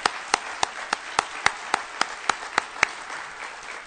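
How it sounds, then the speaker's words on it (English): Room audience claps together, a steady wash of applause with one close, sharp clapper punching out evenly spaced loud claps about three per second above the crowd. "I want to give a round of applause to all in the room for that."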